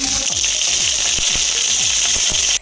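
Onion, garlic, black mustard seeds and curry leaves frying in hot oil for sambar, a loud, close, continuous sizzle with faint rhythmic stirring underneath, cutting off abruptly at the end.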